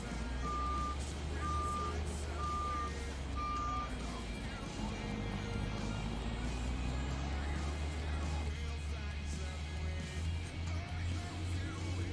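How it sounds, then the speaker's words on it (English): A dump truck in Farming Simulator 22 gives four evenly spaced reversing beeps over a steady low diesel engine drone. The engine idles on after the beeping stops. "Did somebody order a dump truck?"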